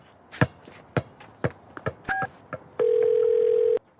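A phone call is dialled: a few soft taps, then a brief two-tone keypad beep, followed by a steady ringing tone lasting about a second, close and clear.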